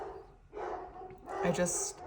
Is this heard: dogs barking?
yes